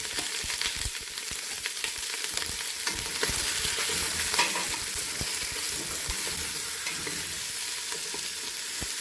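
Onions fry over medium heat in a pan, giving a steady, close hiss and crackle with occasional stirring clicks and no talking.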